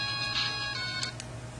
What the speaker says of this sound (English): go figure my phone rings